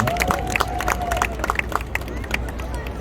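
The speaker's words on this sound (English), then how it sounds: "A big round of applause for the kids for the dancing." An outdoor crowd in Times Square, New York, on Indian Independence Day applauds for a children's dance performance with scattered claps amid crowd babble and voices.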